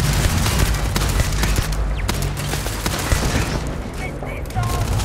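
Turret gunfire rattles in rapid bursts in the video game Starfield, dense and loud throughout, with someone talking over it.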